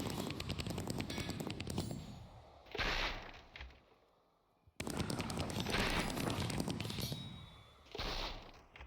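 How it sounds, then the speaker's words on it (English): Minecraft multishot crossbow loosing a barrage of fireworks in the video game: dense, rapid crackling bursts like gunfire, pausing briefly and then erupting again, loud and continuous, with no speech. "it sends like a whole bunch of fireworks out"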